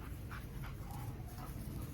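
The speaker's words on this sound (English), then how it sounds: "if you can hear the other dog" A dog pants and whimpers faintly under a steady background hiss, with a few soft high whines rising now and then.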